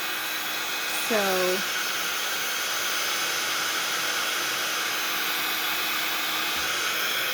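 A hair dryer blows steadily and continuously at close range while drying a mixed media journal page, and a voice briefly speaks over it near the start.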